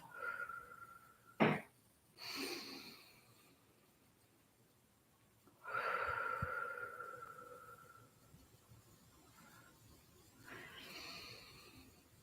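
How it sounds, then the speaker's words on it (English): Slow, audible breathing in through the nose and out through the mouth, soft airy inhales and exhales spaced several seconds apart, close and quiet. "And again, breathing in through your nose,"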